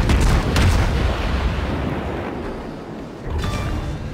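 Warship main guns fire in World of Warships, a heavy booming volley that rolls out and decays over a few seconds before another burst, loud and close with no talk.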